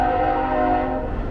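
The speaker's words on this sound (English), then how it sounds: "Got a train in the background over there." A sustained, tonal horn-like drone, fairly loud and steady, fitting a train sounding its horn some distance away, over a low rumble, heard from a ferry terminal in Bellingham, Washington.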